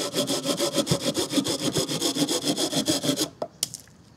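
A folding saw cuts through wet but long-drying hardwood outdoors in fast, even back-and-forth rasping strokes, close and loud, then stops with a few knocks. A brief word is spoken at the end.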